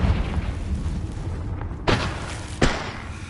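Confringo explosion spell cast in Hogwarts Legacy on PS5, two dull booming impacts about a second apart over a loud, steady game background.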